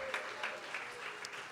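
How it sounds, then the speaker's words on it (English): Audience applause in a room during a live conversation event, a steady wash of clapping lasting throughout at moderate level with a few sharper peaks, no speech on top. "Let's clap it up for everybody who's here supporting Jamila."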